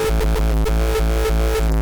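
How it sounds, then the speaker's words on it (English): Frenchcore synth kick looping in rapid, evenly spaced hits, heavy and distorted, with an automated EQ sweep sliding upward through each tail like a whooshing arrow, loud and alone. "And what this does is it makes a sliding like arrow effect."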